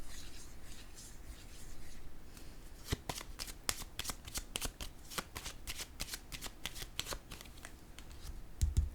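Tarot cards handled, shuffled and laid down one by one during a reading, a run of crisp, sharp card snaps and slaps in irregular rhythm over a soft rustling bed, close and fairly quiet.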